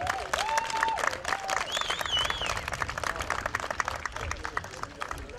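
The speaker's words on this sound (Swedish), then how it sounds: "En stor applåd till Partyfabriken." Crowd applause at a Swedish town market parade, scattered outdoor clapping with some cheering, moderately loud and continuous, with a few whistle-like tones sliding over it early on.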